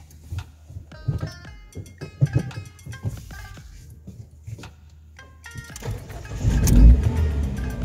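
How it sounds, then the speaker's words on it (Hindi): A car engine cranks and starts after the key is turned, rising into a loud low rumble near the end, following a stretch of clicks and small interior noises. "ये हो गई हमारी गाड़ी स्टार्ट।"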